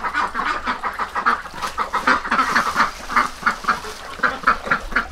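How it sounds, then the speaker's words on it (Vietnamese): Flock of ducks quacking in rapid, overlapping bursts, a busy and fairly close chorus that continues without pause. "Vừa rồi đấy, đàn vịt đấy."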